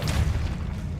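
Depulso force spell cast in Hogwarts Legacy, a single deep booming thump that fills the moment with a low rumbling blast, loud and close, with no talking.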